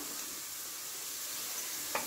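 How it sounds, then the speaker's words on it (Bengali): Chicken frying in a pan, a steady soft sizzle and hiss that stays even throughout, with a faint clink near the end. "চিকেনটা দিয়ে একটু সব কিছু নেড়ে ছেড়ে নিয়ে চিকেনটা একটু ভাজা ভাজা হয়ে গেলে"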